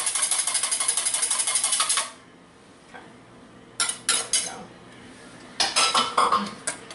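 Egg yolk and flour being mixed in a bowl: about two seconds of rapid, rhythmic utensil clatter, then a short pause and a few scattered clinks and scrapes.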